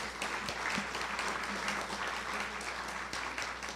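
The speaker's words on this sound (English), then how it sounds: "Let's give them a big round of applause." Audience applause for labor representatives at a workforce hub announcement in Baltimore: a steady, moderately loud round of clapping that fills the room without pause, with a low hum underneath.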